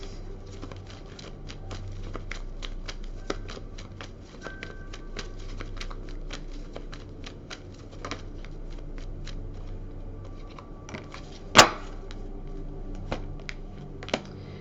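Tarot cards being shuffled continuously, a close, dense patter of riffling card edges with sharp flicks and one loud snap near the end, no talking.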